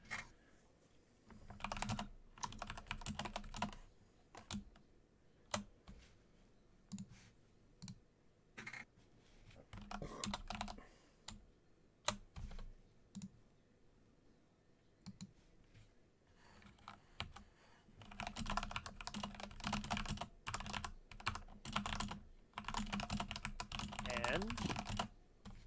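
Rapid typing on a computer keyboard comes in bursts of clicky keystrokes with short pauses between them, close up, with a voice talking faintly now and then.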